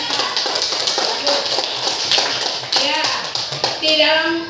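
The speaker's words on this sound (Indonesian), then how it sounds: "tepuk tangan untuk ya" Group applause in a fourth-grade classroom, quick, dense claps filling a few seconds, a voice briefly rising over it near the end.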